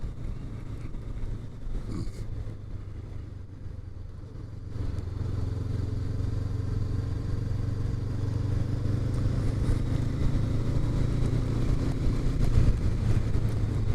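A 2021 Honda CBR500R motorcycle engine drones steadily while riding, growing slightly louder as it goes, mixed with wind rush over the microphone and no talk.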